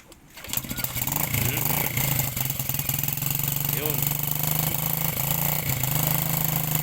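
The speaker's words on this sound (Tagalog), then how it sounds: "Tingnan natin kung marunong magmotor si Kuya Raimundo." A motorcycle engine starts up and then runs with a steady rumbling drone, close by and loud throughout.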